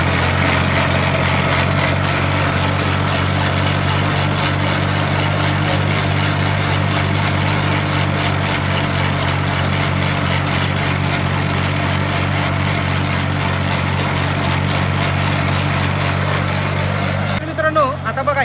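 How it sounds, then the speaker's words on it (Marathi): A tractor drives along sugarcane rows planted seven feet apart, spreading soil onto the beds. Its engine gives a close, steady low drone that runs unbroken and cuts off at the very end. "कशा पद्धतीने माती लावावी लागते हे तुम्हाला मी ट्रॅक्टर चालवताना दाखवतो"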